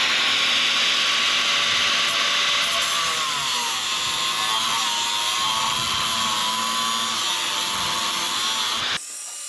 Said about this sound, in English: I'm gonna go take that grinder and cut this.